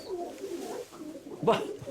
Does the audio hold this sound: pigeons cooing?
yes